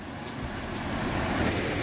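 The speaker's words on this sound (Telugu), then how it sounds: "ఇంకో సుంకిలో ఇంకొక చిన్న వాటర్ ఫాల్స్." A small waterfall in the hills on the way to Deomali, Odisha, pours down from above as a steady, loud, broadband rush with no break and no voices.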